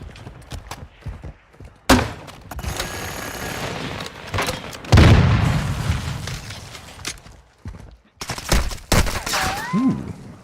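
Gunfire in Call of Duty DMZ using an FTAC Recon rifle: sharp rifle shots and rapid bursts cracking loud and close, with booming impacts and swelling rumbles between them, plus brief voice chatter.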